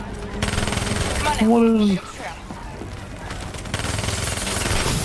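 Machine-gun fire from Call of Duty: Black Ops III rattles steadily through most of the moment, continuous bursts mixed with game noise while players talk over it.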